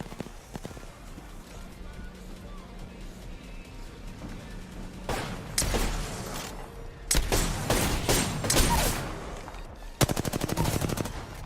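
Gunfire in Apex Legends, with faint distant shots early on, then loud close bursts of rapid automatic fire in several volleys, the last a sharp rattling string of rounds.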